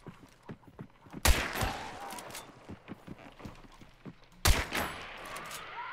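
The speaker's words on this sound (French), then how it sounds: "Deux coups que j'ai en fusil à pompe, ça c'est nice." Two loud shotgun blasts from a pump-action shotgun in the Hunt: Showdown game, the first near 1.2 seconds and the second near 4.5 seconds, each with a long ringing tail. Faint footsteps and clicks sit between them, and no one speaks.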